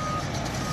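A fire truck reverses at the scene of a large fire in Portland, its backup alarm beeping steadily at a moderate distance over a low engine rumble.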